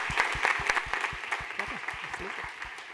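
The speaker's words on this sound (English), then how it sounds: "Let's give a big round of applause for all the teams answering the questions" Audience applause for teams at a startup demo day event, a patchy, uneven patter of clapping with low thumps and a voice murmuring underneath.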